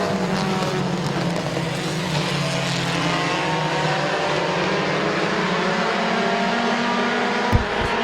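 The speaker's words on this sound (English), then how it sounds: "Alan Clark with the race lead off of turn number 2 and into turn number 3" Race cars circling at Midvale Speedway, a continuous loud engine roar with shifting pitch as cars pass through the turns, steady and dense throughout with a brief knock near the end.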